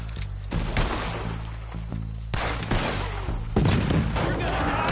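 A Red Dead Redemption 2 gunfight crackles with repeated shots and booms over a constant low engine-like drone and background commotion, with a voice faintly mixed in.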